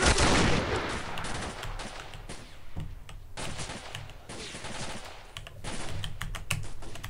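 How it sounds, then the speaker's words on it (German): Gunfire in the video game S.T.A.L.K.E.R., heard as a loud burst at the start followed by scattered sharp shots and rapid clattering volleys through the rest, with no talk over it. "Ich glaube, jetzt schießen sie auf mich"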